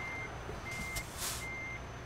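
A truck in American Truck Simulator reversing: three evenly spaced, steady electronic beeps sound over a low engine rumble, with a brief hiss of air between them, fairly close and clear.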